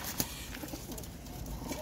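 A Golden Kamagar pigeon coos in low, soft repeated notes over a steady background hum, with no voices present.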